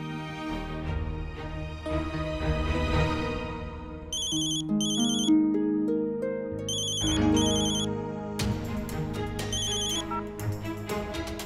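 A phone rings with a chirpy electronic melody over background music, the ringing pattern repeating in short bursts several times.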